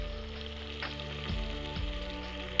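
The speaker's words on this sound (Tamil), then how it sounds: "இப்போ வந்து நான் கொஞ்சம் இஞ்சி பூண்டு விழுது சேர்க்குறேன்" Ginger garlic paste sizzles in hot oil in a pressure cooker for mutton biryani, a steady close frying hiss with a brief stir-like burst near the end.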